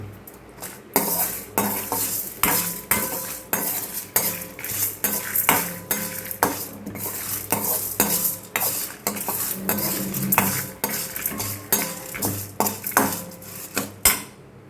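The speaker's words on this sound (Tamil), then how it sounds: "இப்போ இந்த கடலைப்பருப்பு, உளுந்தம்பருப்பு, காஞ்ச மிளகா ப்ளஸ் இந்த தேங்காவையுமே நான் வதக்கி எடுத்துக்கிறேன்" Chana dal, urad dal, dried chillies and coconut are sautéed in a pan with a metal spoon, a busy run of loud scraping and clattering strokes over a soft sizzle, with no talking.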